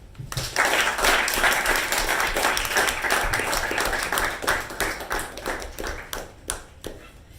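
Audience at a Toastmasters club meeting applauds to welcome the club president, a dense burst of clapping that holds steady, then thins into scattered individual claps and fades toward the end.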